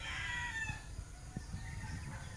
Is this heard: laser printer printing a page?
no